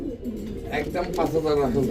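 A pair of Satin Chinese Owl pigeons coos close by, a short run of low, throaty, rolling coos that swell toward the end.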